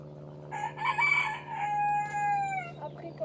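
A rooster crows once in a long drawn-out call on a farm beside a vegetable garden, heard clearly at moderate distance over a steady low hum, with no voices.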